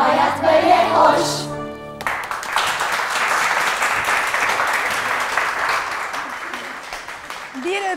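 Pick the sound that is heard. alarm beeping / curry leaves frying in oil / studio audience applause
studio audience applause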